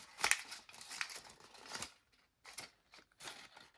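Origami paper being folded and creased by hand for a bunny basket: close, crisp crinkles and rustles in short bursts separated by brief quiet gaps.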